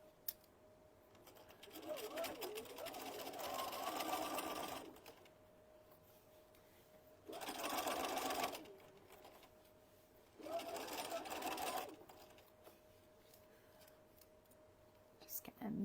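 A sewing machine stitches around the fabric of a stuffed chicken toy in three separate runs of steady whirring, with soft whispered talk in the quiet gaps between them.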